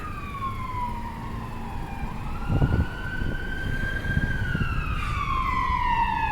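A wailing ambulance siren sweeps up and down in pitch, loud and steady over a rumble of passing traffic on Dutch Village Road.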